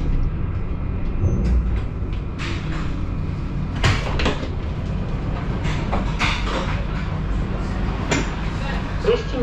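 A tram on line 1 in Mulhouse runs with a continuous low rumble and rolling noise, broken by a few sharper clacks and rattles from the car.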